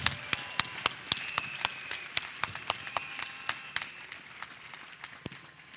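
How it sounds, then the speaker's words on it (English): A church service congregation claps in sharp, uneven slaps that loosely fall into a beat at first and then thin out toward the end, over a low murmur of room noise. "Are you clapping for Jesus Christ?"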